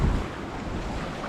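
Gusty coastal wind buffets the microphone beside the sea near Kalbarri and Port Gregory in Western Australia, a steady low roar with a stronger blast at the start, no voices.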